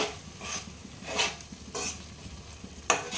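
Cashew and charmagaz (melon seed) paste sautéed for a chickpea chana masala, with soft bursts of sizzle and several spoon scrapes in an uneven rhythm, close and fairly quiet.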